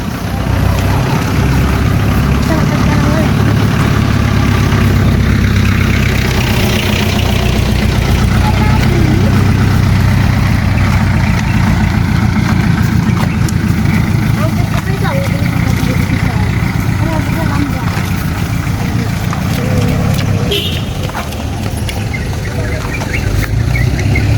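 A motorcycle engine on a village road in Aceh in the late afternoon, a loud, steady rumble that fills the whole stretch, with voices heard over it.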